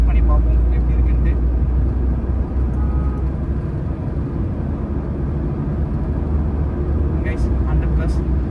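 A Skoda Superb with an automatic gearbox accelerates hard on the road, heard from inside the cabin as a loud, steady low rumble of engine and road noise that holds without break, with a few faint clicks near the end.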